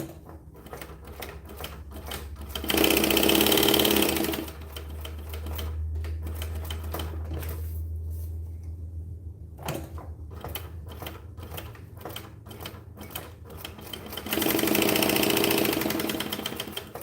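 A sewing machine stitches a bag in a sewing session, with a fast, steady motor whir that runs loud and hard in two bursts. Slower backstitching comes between them with a lower hum and clicking needle strokes.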